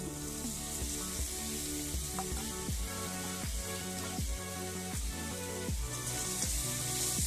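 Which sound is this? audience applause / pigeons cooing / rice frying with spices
rice frying with spices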